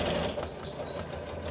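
Domestic sewing machine running a short reverse backstitch at the start of a seam on a patchwork eyeglass case, a steady close mechanical hum and whir with no talk.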